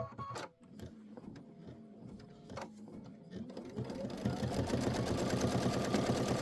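An embroidery machine stitches a tack-down line for a quilt background. Scattered clicks and knocks come first, then the rapid mechanical whir of the needle builds and runs steadily and close.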